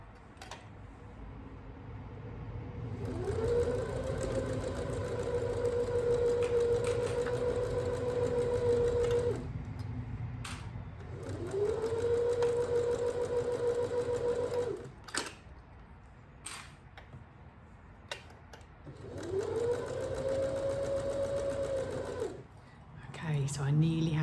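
Electric sewing machine stitching a dress skirt to its bodice, running in three long steady whirring bursts separated by pauses with small clicks and handling noises, close and loud.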